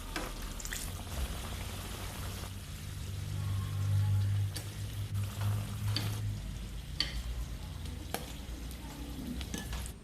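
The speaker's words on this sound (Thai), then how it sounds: "ทอดให้กรอบหน่อยนะครับ" Squid eggs deep-frying in hot oil until crisp, a steady close sizzle and bubbling with occasional scraping stirs and clicks, no voices.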